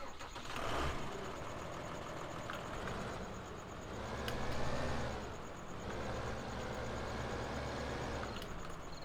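A tractor engine in Farming Simulator 15 cranks, catches and settles into a steady mid-pitched idle, rising briefly midway before evening out, loud and close with no talk.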